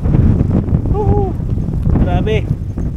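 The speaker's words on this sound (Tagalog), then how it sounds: "Grabe ang hangin." Strong wind buffets the microphone in loud, continuous low rumbling gusts at a seaside cliff in Sual, Pangasinan, while voices speak briefly over it.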